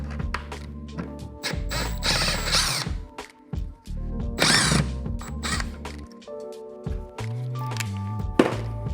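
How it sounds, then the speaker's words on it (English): An impact driver backs out two Phillips screws on a Milwaukee Packout, giving short close bursts of whirring and rattling hammering separated by pauses and handling clicks. "I'm going to go impact driver. We got to start off by removing these two Phillips screws."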